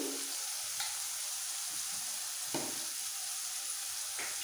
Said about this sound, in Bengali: একটু তেলের মধ্যে নাড়াচাড়া করে দিয়ে দেবো খুব সামান্য একটু নুন আর হলুদ।